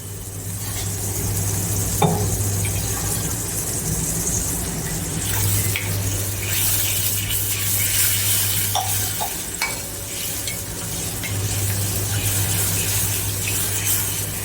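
Water poured into a hot pan of spices, coriander-cumin powder and garam masala for a Kathiawadi curd papad curry, giving a steady sizzling and stirring hiss with a low kitchen hum underneath, with no talk.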